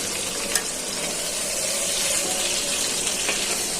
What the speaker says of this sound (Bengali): মাছটা এক পিস ভালো করে ভাজা হয়ে গেছে, উল্টিয়ে দিচ্ছি।